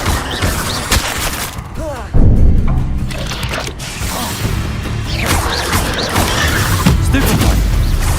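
Bombarda blasting spells going off in Hogwarts Legacy, a string of booming explosive impacts and crashes with magical whooshes, the loudest blast around the two-second mark, amid ongoing game combat noise.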